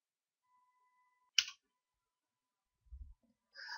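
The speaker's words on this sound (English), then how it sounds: "Let me press enter on the command." A single sharp click of the enter key on a computer keyboard stands out against near silence, followed later by a soft low thump and another brief burst of clicking.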